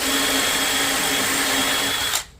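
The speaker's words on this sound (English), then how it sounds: "I've got to drill the hole to this depth right here" A hammer drill bores a hole into a masonry wall with a masonry bit: a loud, steady grinding whine that runs nearly unbroken and then cuts off abruptly near the end.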